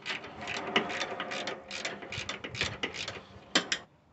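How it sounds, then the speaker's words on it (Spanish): A ratchet wrench tightens the last lower bolt on a 2011 Nissan Sentra front shock absorber, heard as a close, rapid, uneven clicking of the ratchet mechanism running for several seconds without talk. "Y enseguida vamos a apretar el último tornillo que va en la parte de allá abajo."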